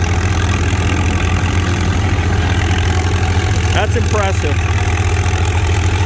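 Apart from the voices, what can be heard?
50-horse antique tractor engine pulling heavy frame plow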